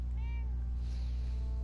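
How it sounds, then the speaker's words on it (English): A cat meows once, short and clear, over a steady low hum inside a tavern, with no talk. "I heard a cat."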